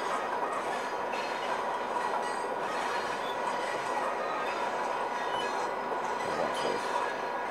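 A video game train, an Amtrak passenger train at about 90 mph, rolls steadily along the rails in a dense, continuous rumble with faint wheel squeal and clatter, no voices over it.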